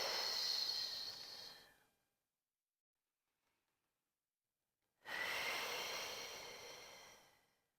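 Two slow, deep breaths during a Pilates stretch, a long airy exhale fading out, then a pause of silence before another long breath swells and trails off, close and soft.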